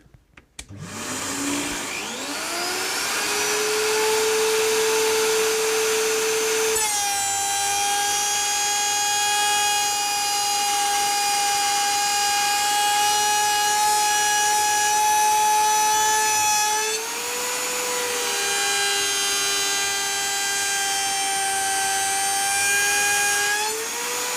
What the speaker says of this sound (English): Right, switch on, let the machine build up to speed.